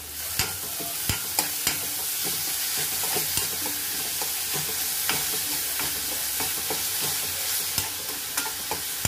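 A chopped large onion frying in a pan while being stirred, with steady sizzling and frequent sharp scrapes and clinks of the spoon against the pan, close and fairly loud.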